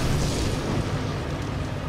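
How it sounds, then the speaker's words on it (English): A deep booming rumble of giant trucks exploding in Resident Evil 5 dominates, heavy low-end and loud throughout the short stretch. "how is it okay that those giant trucks just explode right next to us?"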